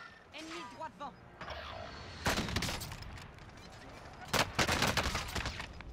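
Sharp gunfire bursts crack out in clusters during a Call of Duty: Modern Warfare match, loud and close, with French-speaking players talking throughout.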